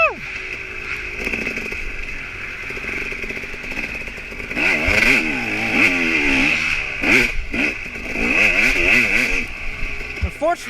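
Dirt bike racing around a muddy motocross course, its engine revving up and down in rising and falling whines, near and loud, with a rider's voice heard over the engine.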